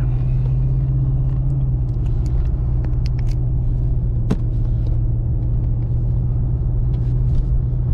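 A 2014 Lexus IS F on the road in non-sport mode makes a steady low interior rumble of engine and tires, constant and unbroken, with a single sharp click partway through.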